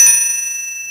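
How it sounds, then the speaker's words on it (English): A single bright strike on a Swedish bell, its clear metallic ring sustaining and slowly fading, close and loud with no other sound. "I believe this bell is Swedish"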